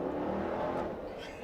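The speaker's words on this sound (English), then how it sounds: "Love the exhaust on it. It's just the stock exhaust too." Dodge Durango R/T with stock exhaust revving in wet conditions, a short, steady engine roar that eases slightly toward the end.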